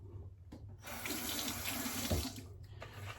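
A bathroom tap runs into the sink to wet a shaving soap tin and brush, a steady close hiss of flowing water that rises in strength after a short start and stays faint.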